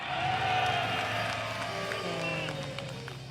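Continuous clapping and crowd noise from an audience cheering on team B at a team game, steady and fairly loud, with voices blended into the applause.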